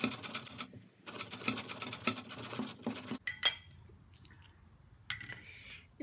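An ingredient being crushed by hand to squeeze out its juice for a homemade skin lotion: bursts of close, gritty crunching and scraping with brief pauses, then quieter rustles and a final short crunch.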